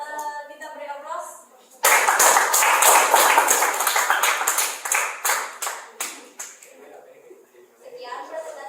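A classroom audience applauds after a student presentation on economic policies, the clapping bursting in abruptly and staying dense and loud for several seconds before it thins into scattered claps. Voices talk before the applause begins and again once it dies down.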